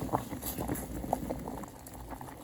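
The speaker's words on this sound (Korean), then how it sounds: "육수처럼 없어서 오늘 그냥 혼다시 넣고 끓여주겠습니다" Soup boils in a pot with hondashi, a soft, low bubbling and popping with occasional small splashes, steady and close.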